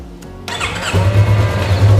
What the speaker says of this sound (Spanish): Vamos a encender la motocicleta